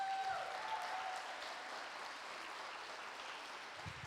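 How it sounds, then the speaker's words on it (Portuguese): A crowd applauds with an even, sustained patter of clapping that stays fairly faint and distant throughout, with no voices over it. "Uma salva de palmas para essa morena"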